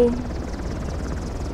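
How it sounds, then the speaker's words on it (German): A helicopter in Uncharted: The Lost Legacy thrums continuously with a low, pulsing rotor chop, fairly loud and close throughout the brief moment. "Heli."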